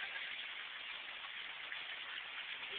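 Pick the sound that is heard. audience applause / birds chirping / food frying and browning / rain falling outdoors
rain falling outdoors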